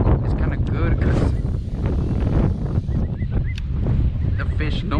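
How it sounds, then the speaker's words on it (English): Strong wind buffets the microphone during wade fishing for speckled trout in shallow coastal water, a continuous loud rushing roar, with a voice talking under it. "the wind's actually coming towards me"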